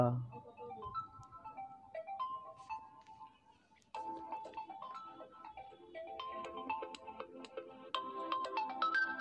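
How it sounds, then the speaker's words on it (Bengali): A phone ringtone plays a bright electronic melody of repeating notes, steady and clear throughout, with faint voices in the background of a small family drama scene. "মা ইভানা ফোন করছে"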